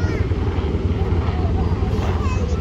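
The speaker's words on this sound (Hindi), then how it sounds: "बाईं तरफ से मंच के सामने आगे बढ़ रहा हेलीकॉप्टर MH-60 रोमियो है।" An MH-60 Romeo naval helicopter flies in front of the stage at an Indian Navy Day rehearsal, a loud, continuous rotor and engine roar mixed with wind buffeting throughout.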